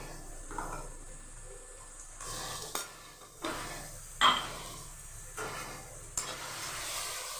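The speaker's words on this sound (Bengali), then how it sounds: "পেঁয়াজটা আমি ভালো করে একটু ভেজে নেব" Onions frying in oil and ghee, a soft bed of sizzling broken by several stirring scrapes and one sharp metallic clink of the utensil against the pan.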